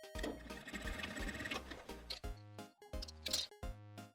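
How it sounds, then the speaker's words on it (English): A sewing machine stitches back and forth over a jeans waistband, its motor running in loud bursts with short pauses between passes, close by with no talking. "we'll put it back under the machine and then stitch over the top a couple of times."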